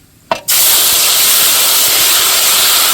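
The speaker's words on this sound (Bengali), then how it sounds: "এর জন্য আমরা ফোড়ন দিয়ে দিলাম তেজপাতা, গরম মশলা, শুকনো লঙ্কা" Bay leaf, garam masala and dry chilli drop into hot oil for tempering, setting off a sudden loud, steady hiss and sputter close by that holds to the end after a brief quiet start.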